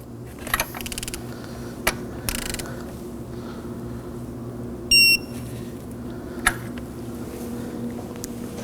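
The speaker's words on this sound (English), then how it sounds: "Now we can torque our sensor to 16 foot-pounds." A new oil pressure sensor is torqued on an Acura MDX 3.5L V6, with a few sharp ratchet clicks and clacks over a steady low hum, plus a short electronic beep midway.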